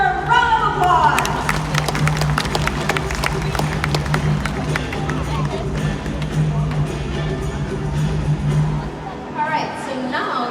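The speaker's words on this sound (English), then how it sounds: "let's give our turkey vulture a round of applause!" Crowd watching a turkey vulture demonstration claps and cheers for several seconds, busy and fairly loud, with scattered chatter, before the noise drops away near the end.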